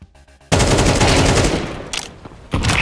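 A burst of close, loud gunfire in Counter-Strike 2 breaks in after a quiet moment, a dense stream of rapid shots that tapers off, then cuts back in with another sharp volley.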